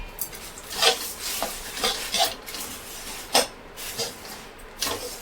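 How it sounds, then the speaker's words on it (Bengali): Puffed rice stirred in a pan off the heat to coat it with jaggery for muri moa. Irregular scraping and rustling strokes, close and fairly soft, repeat every second or so with no talking. "ভালো করে মুড়িটা ভালো করে চারিদিকে মাখিয়ে নেব"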